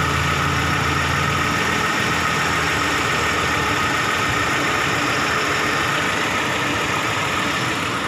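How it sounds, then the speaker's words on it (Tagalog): A Toyota Lite Ace engine idles smoothly and continuously, a steady close, loud hum with a low, even rumble and no change in pace, with no talk. "Ayan, napakatahimik po ng makina."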